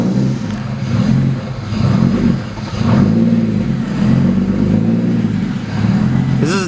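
A tuned 750 hp BMW 135i restarting and idling roughly, its engine note surging and sagging in uneven waves, loud and close, with a brief sharp sound at the very end.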